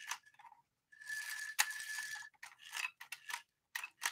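An antique toy motorcycle's clockwork spring is wound by hand: bursts of quick ratcheting clicks, close and fairly quiet, repeat with short pauses between turns.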